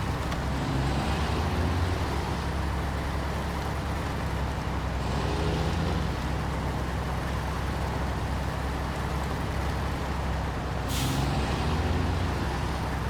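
A truck in the SnowRunner video game grinds along off-road with a steady, loud engine drone, broken by repeated hissing air-brake releases and one sharp high burst near the end; no one speaks.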